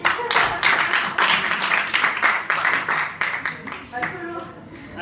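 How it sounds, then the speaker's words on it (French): A small group claps together during a debate training session, a brisk patter of individual hand claps that stays fairly loud and then thins out toward the end. "Et on l'applaudit."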